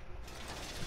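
A wall reinforcement goes up in Rainbow Six Siege, a brief faint mechanical ratcheting and whirring of the metal panel extending, heard alone.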